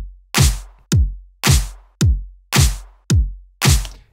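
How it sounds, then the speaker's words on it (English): A drum mix, unprocessed before wavefolding, plays a steady pattern of seven punchy hits alternating deep booming kicks and sharp snare-like cracks, each decaying quickly, loud and dry with no voices. "Before this Fold is applied, the drum mix sounds like this."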